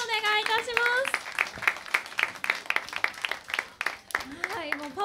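An audience claps after a daytime live stage performance at Tokyo Tower. The crowd applause is moderately loud and fills the middle of the stretch, with voices heard over it at the start and the end.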